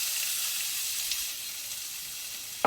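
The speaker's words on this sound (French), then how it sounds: "On fait chauffer avec de l'huile d'olive. On va y rajouter l'ail et l'oignon." Garlic and onion fry in hot olive oil in a stainless steel sauté pan, giving a close, steady, bright sizzle that holds evenly throughout, with a faint clink right at the end.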